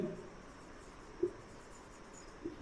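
Faint writing strokes on a board during a physics lesson on states of matter, soft and scratchy beneath a low room hiss, with a couple of brief taps.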